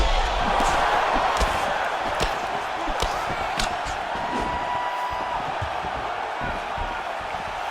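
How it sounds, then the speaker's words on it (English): Crowd noise at an Elite MMA women's fight, a steady roar of spectators with sharp swells and shouts as the fighters exchange strikes, sustained throughout and fairly loud, with some voices mixed in. "you hear the crowd react every time they come together"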